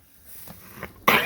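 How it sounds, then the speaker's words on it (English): A ten-month-old ram lamb in a pen lets out a single harsh, close cough right at the end, after a stretch of quiet shuffling. "bad cough there, buddy."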